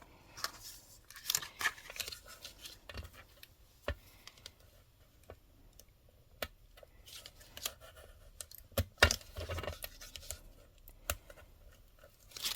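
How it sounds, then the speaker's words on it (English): Scissors trimming excess vellum paper at a crafting table, giving faint, irregular snips and small paper rustles, close by and quiet, spread across the whole stretch. "So you can see here I've got this little bit of extra vellum sticking out here, so I'm just going to trim that away."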